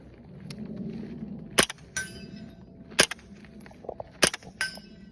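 A rifle fitted with a Stealth Project .30 cal suppressor fires subsonic rounds, producing three sharp, muted cracks spaced over a few seconds, each followed by a faint metallic clack, outdoors with no talk.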